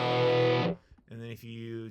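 An electric guitar runs through a distortion pedal with its high-pass filter rolled low, giving a fat, buzzy chord that rings and cuts off, followed by a brief pause and another thick distorted chord.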